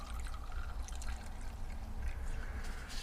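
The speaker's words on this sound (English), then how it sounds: "I'm going to pour some in the carburetor" Gasoline poured into a 40 IDF carburetor on a Porsche 914, a steady close trickling pour under a low rumble, continuous and quiet for about three seconds.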